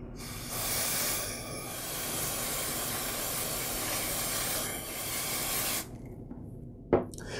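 Carburetor cleaner sprays onto the outside of an edger carburetor in a long, steady hiss at close range, with small dips in level. It cuts off and a brief knock follows.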